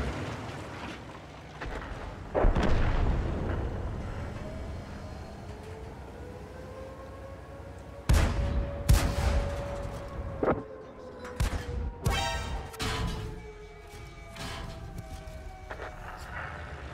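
Tank cannon in World of Tanks, a Tier 5 battle: after a quieter stretch, one sharp loud shot hits, followed by a cluster of booming impacts and a wailing engine or siren-like drone. A voice talks during the fight.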